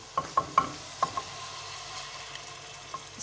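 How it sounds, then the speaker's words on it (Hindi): Onion and yogurt paste hits hot oil in a pan of fish korma, giving a few sharp sizzling bursts and stirring clatters early on, then a quieter steady fry. "प्याज और दही का पेस्ट हम इसमें डाल देंगे।"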